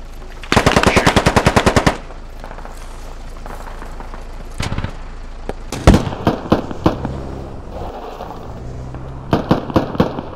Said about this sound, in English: I heard an AK right in front of us.